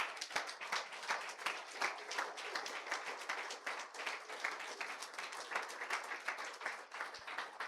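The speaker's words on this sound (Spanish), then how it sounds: "Denle un aplauso al Señor." A church congregation claps together in sustained, even applause that lasts several seconds, heard from a moderate distance with no clear talking.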